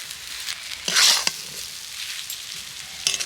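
Boiled potatoes tossed with spices and chopped coriander in a pan, drying out for aloo chop: a soft scraping stir with a brief louder scrape and light sizzle, close and moderately quiet.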